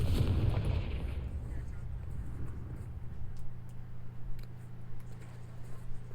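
A Confringo blasting spell in Hogwarts Legacy goes off with a loud, deep explosive burst at the start. A low rumbling hum and faint scattered pops follow.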